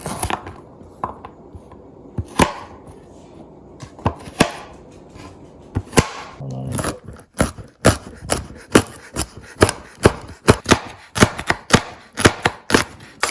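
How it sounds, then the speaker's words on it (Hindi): A knife chops green onions on a cutting board, with sparse cuts at first and then a quick, steady run of sharp, close chops. "तो जब हरी प्याज काटें तो उसका वाइट स्टफ अलग रख लें और ग्रीन अलग कर लें।"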